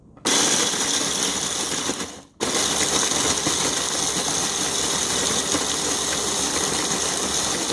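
A Walmart Mainstays 1.5-cup one-touch pulse mini food chopper chops crackers with a loud, steady motor whir, cutting out briefly for a moment before running continuously again, close up.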